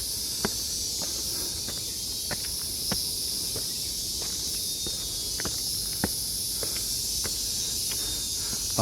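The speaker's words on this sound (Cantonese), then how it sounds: "啊，好多蟬叫啊！" Cicadas drone in a steady, loud, high buzz along the stepped MacLehose Trail Section 10 near Tuen Mun in summer, while footsteps tap irregularly on the stairs throughout.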